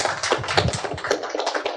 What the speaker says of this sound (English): Let's give our big applause for him